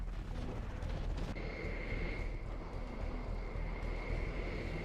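A fuel air bomb detonates in the real-time strategy game C&C Generals Zero Hour, a deep, steady, heavy roar that rolls on without a break, with a high whine riding above it.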